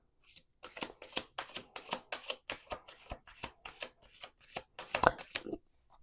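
Playing cards riffle-shuffled over and over in quick rapid bursts, close up, with a sharp snap near the end.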